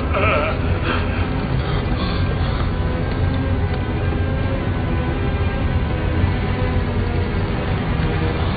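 Goat bleats sound over a dense, steady wash of low background noise throughout, with several short cries near the start and fainter ones later. The setting is a staged scene from a 1997 film of the Odyssey.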